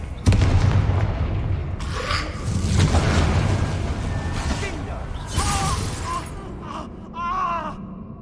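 Confringo fire spell blasts in the Hogwarts Legacy video game, a loud boom opening the sequence followed by further explosive bursts and crackling impacts amid combat effects, with voiced spell shouts and a creature-like cry over them.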